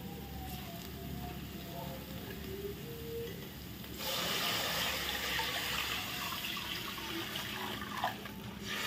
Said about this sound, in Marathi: परतून झाल्यावर आपण त्यामध्ये आता पाणी घालूया.